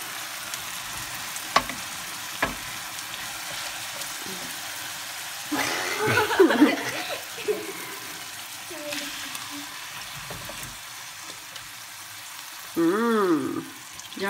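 Tomato sauce for lasagne simmering and frying in a pan, a steady close sizzle broken by louder bursts of stirring, with occasional speech over it.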